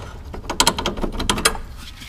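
A ratchet wrench turns a bolt at the top of a car's suspension spindle during a coilover install, giving a short run of quick, close metallic clicks in two brief bursts.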